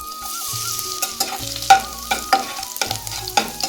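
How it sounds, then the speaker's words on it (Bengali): Nigella seeds and chopped garlic sizzle in hot oil, with steady crackling, scraping stirs and a few sharp spatula knocks against the pan, close and fairly loud with no talking. "ফোড়নে দিচ্ছি কালজিরে, কুচানো রসুন"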